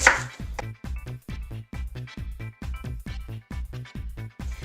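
Onions being chopped with a knife on a cutting board for veggie pate, about a dozen steady, evenly spaced thuds, close and fairly loud with no talk.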